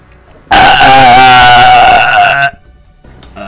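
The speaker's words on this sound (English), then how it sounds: "Burping does not really work too much." One long, loud human burp lasts about two seconds, a croaking, rasping belch that is very close and alone, followed by faint room sound.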